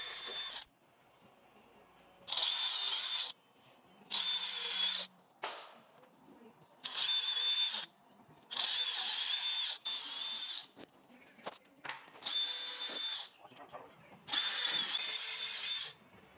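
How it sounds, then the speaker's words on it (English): Power drill pre-drilling screw holes in a window sash, several short whirring bursts of the motor starting and stopping, each lasting about a second, close and moderately loud with quiet handling noises between. "Alright, we've got our holes drilled."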